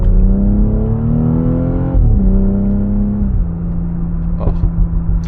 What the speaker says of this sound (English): The downshifts on this, absolutely insane.